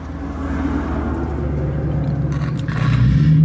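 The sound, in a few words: noisy car engine running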